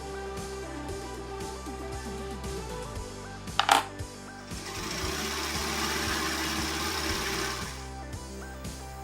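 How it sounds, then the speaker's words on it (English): A serger sewing machine stitches fabric in a steady, fast mechanical hum with a rhythmic ticking pulse, close and continuous, broken by one brief clatter midway. "Sew here using a serger."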